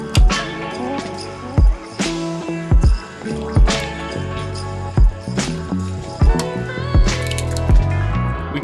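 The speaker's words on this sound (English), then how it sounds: "It is spilling now. Oh, and you spilled some milk, too." Liquid and milk spill and splash inside an RV, with repeated drips, squishy splats and plops over a busy, fairly loud background.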